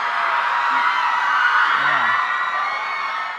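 A television studio audience on a Thai music talent show screams loudly and continuously, a dense high-pitched roar of excited voices with a few shouts standing out briefly.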